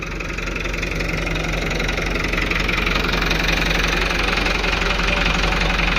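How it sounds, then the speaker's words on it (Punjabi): A Kartar 5936 tractor engine idles steadily nearby, a continuous low rumbling chug with a regular knocking pulse and no voices. "ਟਰੈਕਟਰ ਦੀ ਆਵਾਜ਼ ਆਈ ਜਾਣੀ ਆ ਟਰੈਕਟਰ ਗਰਮ ਹੋਇਆ"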